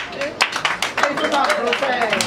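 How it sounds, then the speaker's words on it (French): A church congregation at a Woolwich, London service bursts into a loud, sustained acclamation for France, a dense mix of shouting voices and scattered claps that swells and holds throughout. "Je veux l'acclamation de la France."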